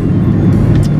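A car rolling along a road on the way to inspect a Golf 3, a loud steady engine and tyre rumble heard from inside, continuous and close, with no talk.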